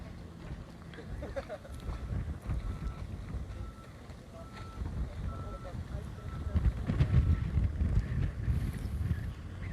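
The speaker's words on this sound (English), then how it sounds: "The wind is quite really scary, and I think that's the reason why the fire is spreading a little fast." Strong wind near a wildfire gusts and buffets the microphone, swelling louder toward the end, with people talking over it.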